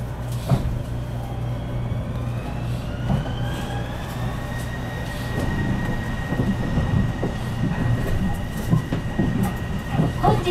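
A Kobe Port Liner automated train on the Port Island Line runs steadily along the track, a continuous rolling rumble with faint clicks and a rising whine of the motor, heard from inside the car.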